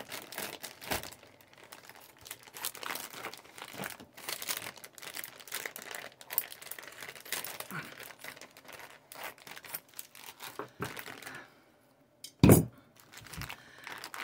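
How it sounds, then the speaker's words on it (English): Plastic mushroom grow bag being trimmed open and pulled apart, with steady crinkling and rustling throughout, light snips and handling clatter, and one sharp loud crackle near the end; no talking. "And just open it up a little bit and just keep trimming it."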